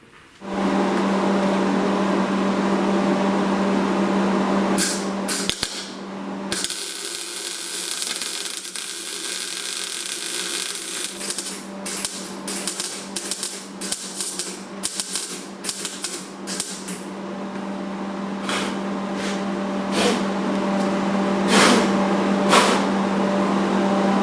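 A welder tacks an intercooler mount into place on a V8 Crossfire project in a driveway, giving bursts of crackling, buzzing arc noise with a steady machine hum between them, close and fairly loud, with no talking.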